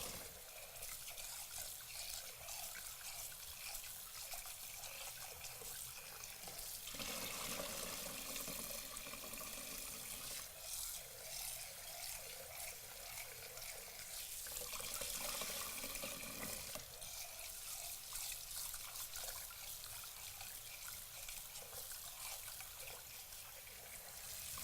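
Running tap water streams steadily over rice in a bowl as it is rinsed, a constant trickling, splashing wash with shifts in tone as the grains are stirred, close and alone without talk.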